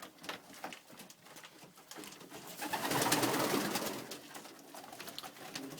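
Texan pigeons cooing close by, soft repeated coos layered with rustling and wing patter, swelling in the middle and easing off, with no voices.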